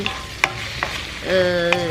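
Beef stir fry with vegetables being stirred in a pan: a few sharp scrapes and taps of the stirring utensil over a steady frying sizzle, close and fairly loud, with no talk.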